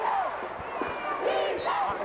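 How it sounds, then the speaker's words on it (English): A junior high basketball crowd at a Rhode Island championship game yells for defense in a continuous roar of massed voices, steady and loud throughout, with sharp individual shouts and whistling cries rising above it. "Martin crowd yelling for defense."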